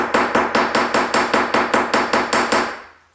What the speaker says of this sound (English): Kind of hammer my edges here, just to give it a nice flare.